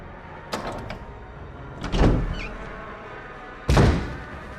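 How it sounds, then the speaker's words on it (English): Door sounds from the Resident Evil REmake video game: two heavy thuds about two seconds apart, each with a short rumbling creak, plus a faint light clatter earlier, all fairly close against a low ambient hum. "we're gonna go through this door now."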